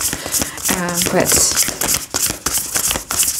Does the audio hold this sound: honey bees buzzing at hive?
no